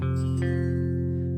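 An electric guitar rings out one power chord, barred with the ring finger. A single strum sustains steadily for over a second, loud and alone.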